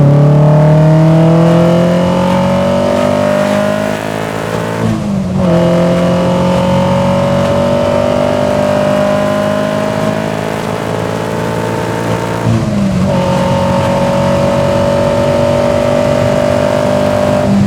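A modified Opel (Vauxhall) Kadett Superboss accelerating hard on a road, its engine note climbing steadily through the gears with two brief dips at the shifts, loud and close throughout.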